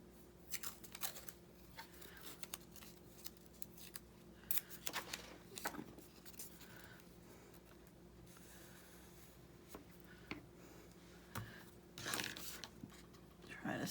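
Scissors snip through paper while a small mini journal is being made, a scattering of short quiet cuts spread irregularly across a soft room background with a faint voice now and then.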